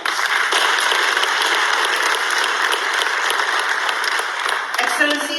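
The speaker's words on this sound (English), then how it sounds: "it deserves a very big round of applause" Delegates at the 3rd Africa High Level Forum on South-South and Triangular Cooperation give sustained hall applause, loud and even, fading near the end as a voice begins over it.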